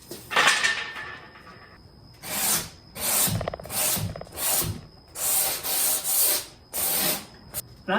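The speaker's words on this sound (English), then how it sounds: "I'm just sanding the edge here just to knock off any of those pieces of wood" Rhythmic rasping strokes of sandpaper rubbing along a wooden edge, close up, in about eight short bursts with brief pauses between them.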